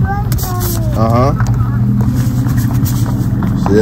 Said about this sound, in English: See that big truck? Huh? You hear it? That's a nice truck.